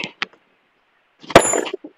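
A stone breaker smashes rock to pieces with a single loud, sharp crack followed by a brief clatter of fragments, after a couple of faint knocks earlier, nearby and with no talking.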